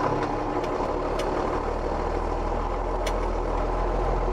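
A vehicle engine idles before setting off, a steady, close, low rumble with a few faint clicks on top and no speech.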